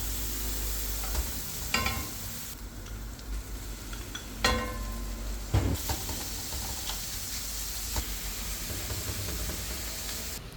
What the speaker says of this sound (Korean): 여기에 다진 양파를 넣고 볶다가 쌀시차를 넣고 잘 볶아줍니다.